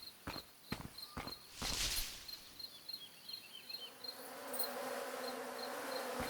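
Buzzing of a swarm of bees in a video game at night, a steady insect drone that thickens over the second half, quiet and close, with a few sharp clicks and taps early on.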